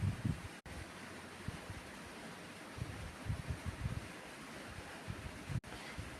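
Cool breeze and falling water from a waterfall outdoors: a steady rushing roar at moderate level with occasional low gusts and buffeting, continuous throughout with no talking.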